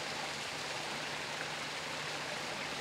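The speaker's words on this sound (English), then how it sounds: "So behind me is a waterfall upstream of Waitara Creek." Waterfall upstream of a creek in a city forest, a steady, broadband rush of falling water that holds constant and close throughout, with no voices over it.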